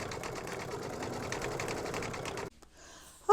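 An embroidery sewing machine stitches rows in a fast, even mechanical rattle, running steadily for a few seconds before stopping abruptly, followed by a brief quiet and a short tone at the end.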